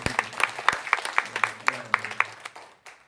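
Scattered clapping from a small church congregation, distinct individual claps in an uneven rhythm that thins out and fades toward the end.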